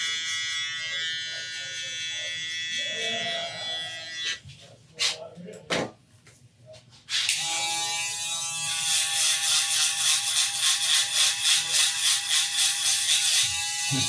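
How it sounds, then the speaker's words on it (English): A close electric box shaver buzzes steadily, cuts out briefly with some handling noise, then resumes with a harsher, pulsing grind as it works through thick hair during a fade haircut. "So I'm going to actually switch over to the box shaver."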